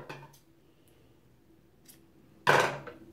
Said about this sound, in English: So now we'll cut these threads.